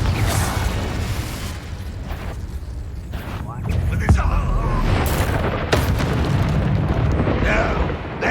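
The Confringo explosive spell in Hogwarts Legacy, heard as repeated booming blasts and bursts amid busy game noise, with a voice speaking over the action.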